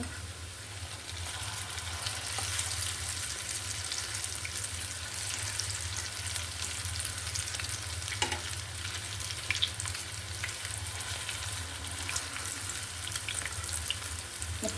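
Papaya pakoras fry in hot oil with a steady, dense crackle and sizzle that runs evenly and alone throughout, close and moderately loud, with a few faint clinks partway through.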